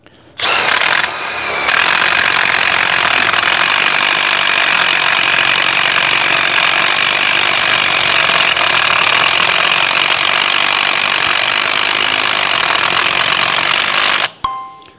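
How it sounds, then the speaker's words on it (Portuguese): A Bosch GDX 200 cordless impact driver drives a carbide masonry bit in one long, loud, continuous burst of hammering whir lasting about thirteen seconds, starting abruptly and cutting off sharply, with no voices. "Agora a GDX 200, a mais forte que eu tenho aqui das chaves de impacto, parafusadeira de impacto"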